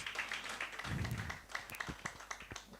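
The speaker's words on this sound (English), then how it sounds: "Please, can we give her another round of applause?" Audience applause at an induction ceremony for the environmental health profession's class of 2024: a soft, steady wash of many hands clapping, fairly distant and low in level, lasting the whole moment.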